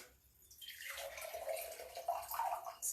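Water pours and splashes into a container indoors, starting after a quiet moment and continuing as a steady, close gurgling trickle with small drips, no talk.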